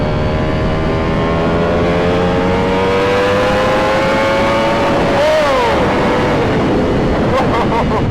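Ducati Panigale V4 SP2 engine under way, a loud steady drone with rising pitch as it pulls through the revs, a brief dip and flare near the end, close and continuous with faint talk beneath.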